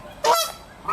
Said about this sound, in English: You're not a nice goose.